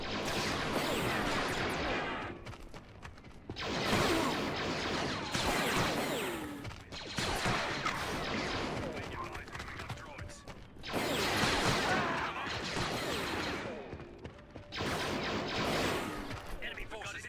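A Clone Wars video game battle against droids at a base entrance: repeated bursts of blaster gunfire and explosions in loud clustered waves separated by brief lulls, with no clear talk.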